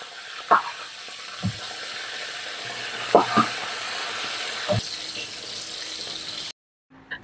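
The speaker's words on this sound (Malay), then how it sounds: "So kita akan goreng pula ikan nyok-nyok" Steady sizzling of ikan nyok-nyok fish frying, with occasional clinks and taps of utensils, ending in abrupt silence.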